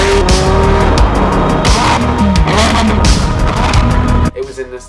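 A tuned McLaren supercar making just under 700 horsepower at the crank roars loud and close, its engine note rising and falling with tire squeal and rasping bursts, then the noise cuts off sharply near the end.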